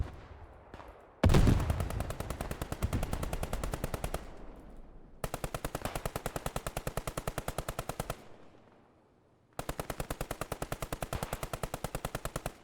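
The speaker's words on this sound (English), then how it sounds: "Good to hear the machine gun" Rapid machine gun fire in the WWII shooter game Squad 44, heard as long sustained bursts of loud rattling shots separated by brief pauses, with no talking.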